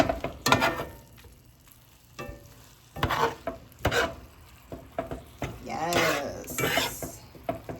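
Brussels sprouts tossed with spices in a hot pan give irregular scraping stirs and metal clanks over a soft sizzle, with a few louder strokes late on.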